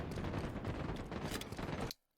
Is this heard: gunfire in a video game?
yes